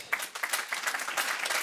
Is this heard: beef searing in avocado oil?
no